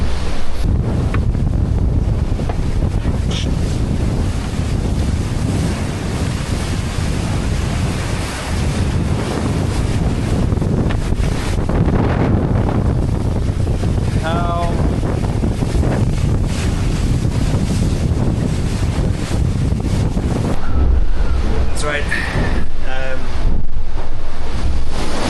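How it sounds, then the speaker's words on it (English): Strong wind of around 35 knots roars past a racing sailboat at sea during the Vendée Globe, with waves surging and rushing steadily against the hull for a long, loud, unbroken stretch; occasional faint voices come through beneath the wind. "when the boat was doing 20 knots in wind speed of 35 knots"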